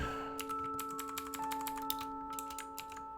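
A name typed on a keyboard, a fast continuous patter of close, light key taps running throughout over a steady electrical hum.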